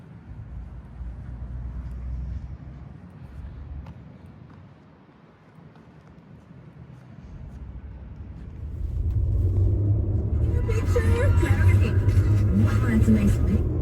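Acura TL tires rumbling over lines across the street while driving, a low road drone that dips midway then swells into a louder, rougher rumble with rattly texture toward the end.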